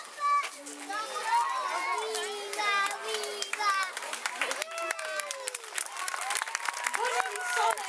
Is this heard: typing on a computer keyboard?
no